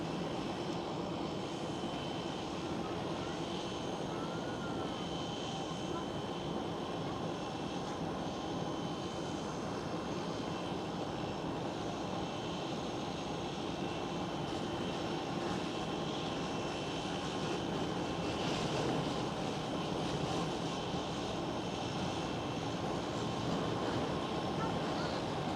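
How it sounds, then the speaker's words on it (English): Delta Airlines Airbus A330 airliner at Amsterdam Schiphol, a steady broadband engine roar that holds for the whole stretch with a slight swell near the end, fairly distant and continuous. "First Delta Airlines A330."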